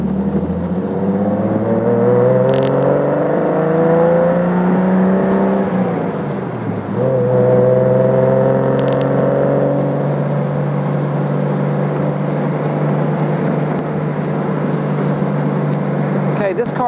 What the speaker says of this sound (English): That ANSA system on this little car with the performance tune it has is really quite pleasing